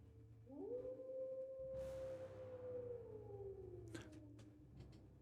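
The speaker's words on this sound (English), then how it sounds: "you hear the howl echoing through the hills" A single long, wavering wolf howl rises, holds and slowly falls away as it echoes through the hills, fairly faint, followed by a few light clicks near the end.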